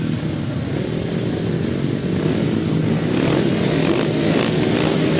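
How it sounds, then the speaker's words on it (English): Grasstrack sidecar motorcycle engines rev together on the start line of a 2003 European semi-final, a loud, dense snarling drone that swells slightly as the revs rise. "the revs rise"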